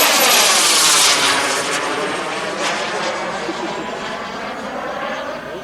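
A large RC turbine jet, a Fortune T3 powered by a Kingtech 320 engine, roars loudly and steadily, its sweeping whine slowly fading as it passes and moves away.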